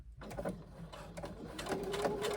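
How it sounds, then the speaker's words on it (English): A sewing machine runs a short row of stitching across the top of a bag connector near its slit, making a close, quick mechanical whir with rhythmic ticking that picks up toward the end. "You are now going to just do a little row of stitching across the top part of this connector near the slit"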